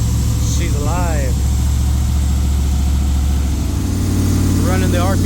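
A rebuilt Jeep engine on its first fire-up, held at a steady elevated idle with a continuous low rumble throughout, close and loud, while people talk over it.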